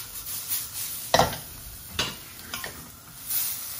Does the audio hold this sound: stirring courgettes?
yes